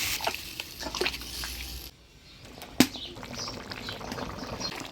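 Broth poured into a pan of jackfruit and potato curry in a village kitchen: a close, steady splashing rush for about two seconds, then a quieter simmering hiss broken by one sharp clink, with no talking.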